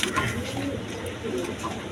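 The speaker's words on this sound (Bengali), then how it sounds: "এখানে এক পেয়ার গিরিবাস কবুতর আছে" A pair of Giribaz pigeons coo softly and low, close up against a steady background murmur, with no distinct talk over it.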